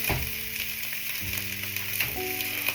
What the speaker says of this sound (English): I know there's a lot of simmering and stuff going on.